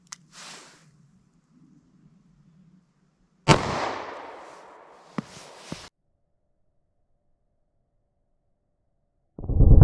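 A single sharp gunshot from a snub nose revolver firing Hornady Critical Defense .38 Special +P into a ballistic gel test rings out loudly outdoors, its echo trailing off, with faint handling noises before and after.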